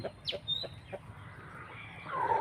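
Seven-month-old chickens cluck in a few short, separate calls close by, and a louder, broader rustle of bird noise rises toward the end.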